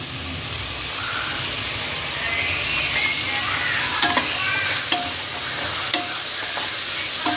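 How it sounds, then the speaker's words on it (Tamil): Chicken masala and tomato being sautéed in a pan, a continuous hiss of frying with occasional spatula scrapes and knocks against the pan, close and even in level with no talking. "இதையும் நல்லா போட்டு நல்லா வதக்கணும்"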